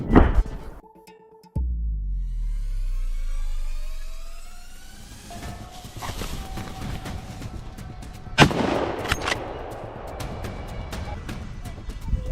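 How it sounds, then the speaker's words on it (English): Rifle shots while hunting wild boars in open farm fields, with a loud blast early on, a long rolling echo and a second sharp shot later. "To be sure, I quickly squeezed the trigger again,"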